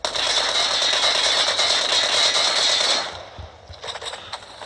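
Automatic gunfire in a video game, with weapon recoil: a loud, rapid, unbroken burst rattles for about three seconds, then cuts off, leaving a few faint clicks and rustles.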